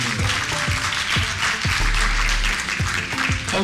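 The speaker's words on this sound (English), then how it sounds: "So give yourselves a round of applause for being here." A teen summit audience applauds in a steady burst of clapping that fills the room throughout, with no pauses and no voices over it.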